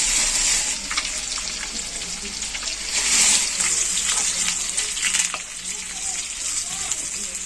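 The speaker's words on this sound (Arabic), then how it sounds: "بتحمريها ومتاخدش معاكي وقت لان هي مسلوقه اساسا يعني" Shallow-pan frying of boiled meat or vegetables for Egyptian fatta with vinegar and garlic, a steady crackling sizzle with short surges, close and moderately loud, no talking.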